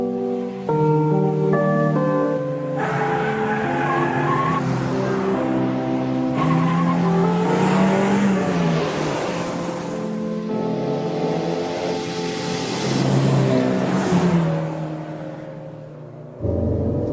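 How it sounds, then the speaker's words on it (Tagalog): Racing cars from the anime Initial D draw near with engines revving and shifting pitch, tires squealing through the corners, loud and continuous over about seventeen seconds, with a brief drop in level near the end. "Uy, may kotse pa parating."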